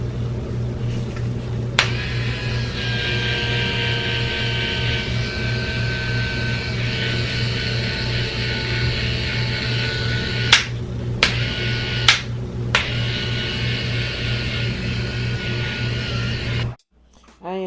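A Duvolle Radiance spin care cleansing brush hums steadily and fairly loud, mixed with a bathroom fan's drone, with a few sharp clicks partway through before the motor cuts off near the end.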